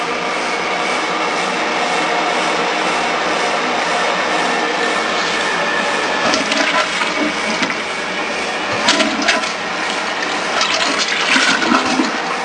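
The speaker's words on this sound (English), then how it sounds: "This is the commode, I just flushed it and we got air back." A household toilet (commode) flushes in a steady, loud rushing of water that lasts throughout, with gurgling surges toward the end and no talking.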